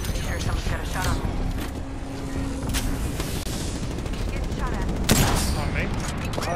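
Gunfire in the battle royale game Apex Legends on Kings Canyon: bursts of rapid weapon shots and sharp cracks, loud and near, mixed with game effects while players talk over them.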